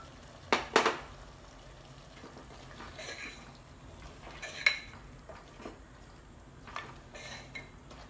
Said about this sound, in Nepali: अब इसे हम थोड़ी देर के लिए छोड़ देंगे ताकि अच्छे से हमारा भुन जाए मसाला।